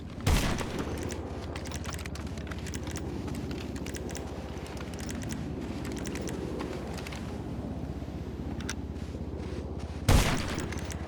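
Sniper rifle shots in a GTA Online PvP match: a few sharp, loud reports stand out at the start and near the end, over a continuous busy rumble of game sound and what resembles keyboard clatter, with no talking.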